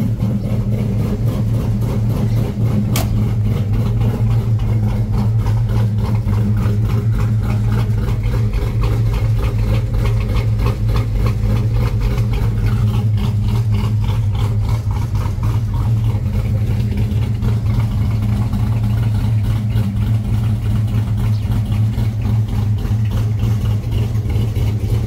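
A Coyote V8 swapped into a 1989 Foxbody convertible with long tube headers and stock injectors idles steadily and loudly up close, its choppy, lumpy rhythm pulsing evenly throughout with no talk.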